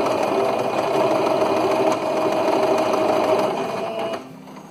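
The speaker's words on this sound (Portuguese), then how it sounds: "Ó, a máquina já desliza facilmente, aqui eu tô costurando com tranquilidade." A sewing machine runs steadily, stitching medium-weight fabric at stitch length 3 with a continuous, even whir up close that stops abruptly near the end.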